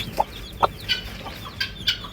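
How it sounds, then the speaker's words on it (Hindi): A hen clucks with her young chicks on a farm, several short separate clucks spread across two seconds, with brief higher chirps from the chicks mixed in, fairly close and without talk. "हमारे जो मुर्गी ने चूजे निकाले हैं ना, वो चूजे भी खेल रहे हैं अपनी माँ के साथ।"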